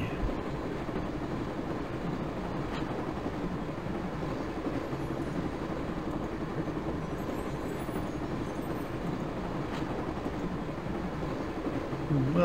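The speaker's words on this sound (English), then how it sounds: "that's the sound of a British train" A British train running on rails in the Broken Sword video game, heard as a steady, low, continuous rumble and rattle from inside, even and moderately quiet throughout.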